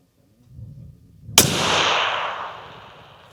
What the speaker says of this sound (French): Allez, on va tirer la 1004 mètres.